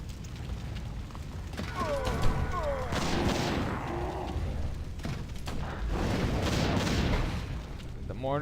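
Mortar fire in a real-time strategy match, an ancient-age wonder under bombardment, comes as repeated booming thuds and blasts amid battle noise, with a commentator talking over most of it.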